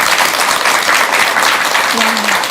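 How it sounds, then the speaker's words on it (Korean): A studio audience claps in a dense, loud burst of applause that carries through the whole moment, with a voice briefly audible beneath it. "우리 방청객 여러분께는 큰 박수 한번 주시기 바랍니다"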